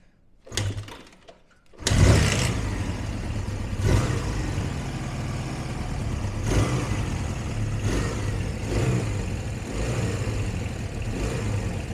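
A stone-cold Honda Benly motorcycle engine catches after a brief cough, then settles into a steady, fairly loud idle with a raised tick-over and occasional small revs, close by and without talk.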